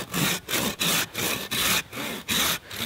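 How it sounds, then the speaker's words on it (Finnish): A hand saw cuts through wood held between the knees, producing eight rhythmic rasping strokes in steady back-and-forth succession, close and loud, with no talk. "Ja sitten ei muuta kuin tästä sahamaa."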